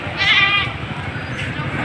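A woolly male sheep bleats at a livestock market in Padre Garcia, Batangas: one loud, wavering bleat near the start, then a fainter call later, over steady crowd murmur and nearby talk.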